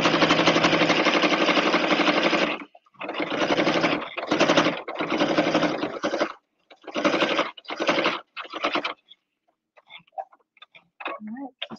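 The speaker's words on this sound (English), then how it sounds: "I'm going to pivot and then lower the presser foot again and stitch" A sewing machine stitches quilted apron fabric in close, loud runs: one long burst, then several short stitching bursts separated by pauses for pivoting, ending in quieter faint clicks.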